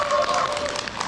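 Applause from the audience at a book launch, a dense, steady patter of clapping lasting about a second, with voices mixed in.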